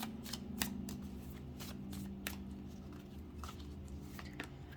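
Tarot cards being drawn from a deck, a series of quick soft slaps and slides in an uneven rhythm with a steady low hum underneath, close and fairly quiet.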